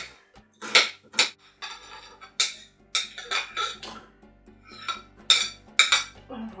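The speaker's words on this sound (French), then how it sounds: "Je coupe l'oignon" A knife cuts through an onion on a board in a series of sharp, close, irregular chopping taps and clicks, with quiet pauses between strokes.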